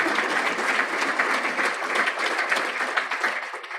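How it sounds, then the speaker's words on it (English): A room of people at a meeting breaks into a dense, steady round of applause, many hands clapping together throughout without any talking on top. "That deserves a round of applause."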